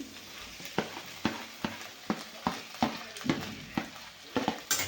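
Okra frying with sautéed onion and tomato in a pan, soft sizzling under regular, evenly spaced scrapes of a spatula stirring, close and fairly quiet.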